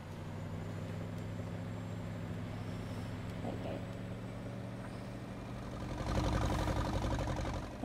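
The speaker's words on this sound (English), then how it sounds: "there's that tractor there. It's quite loud actually." A low, rumbling tractor engine in a farming video game drones steadily, growing louder and rougher toward the end as the heavy vehicle comes closer.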